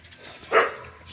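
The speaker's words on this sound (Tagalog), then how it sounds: "May aso dito." A single dog bark rings out at medium distance, one short sharp yelp over a quiet outdoor background.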